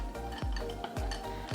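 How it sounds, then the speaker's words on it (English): A spoon clinks and scrapes repeatedly against a bowl while chocolate chips are stirred into batter, a quick run of close, light knocks in an uneven rhythm. "Can you mix that with the spoon?"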